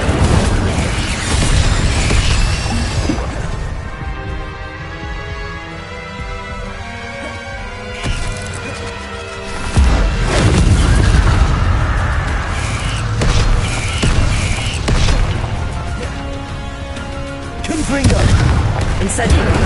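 Incendio fire spell blasts in Hogwarts Legacy: a loud, dense roar of booming bursts and whooshes repeats over game music, swelling and fading as each spell fires.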